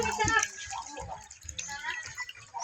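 Water pouring and splashing into a barrel outdoors, a short irregular stream under people talking nearby.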